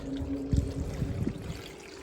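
Brine poured into a jar packed with tomatoes, a soft continuous liquid trickle with a few brief splashy gurgles, close and fairly quiet, with no talking.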